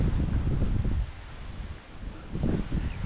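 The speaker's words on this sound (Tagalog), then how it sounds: "Ay, sarap ng hangin." Wind gusts across an open farm, roaring at the microphone in two loud bursts with a calmer rustling lull in between.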